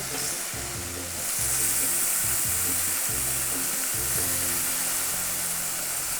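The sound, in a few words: fish browning in oil in a stainless steel pan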